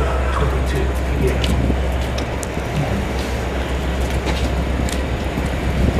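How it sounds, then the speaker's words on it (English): A Long Island Rail Road train to Oyster Bay arrives at a station, rumbling steadily nearby, a continuous low mechanical drone with faint squeals and clanks over the top. "Here's a train coming in"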